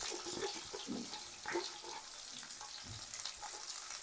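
Sliced onion and dried red chillies frying in a pan, a soft, steady hiss of oil with intermittent stirring scrapes, fairly quiet and close, no one speaking.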